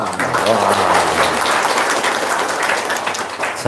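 An audience claps together in a steady burst of applause at a noodle-seller testimonial gathering, loud and dense, with voices mixed in underneath.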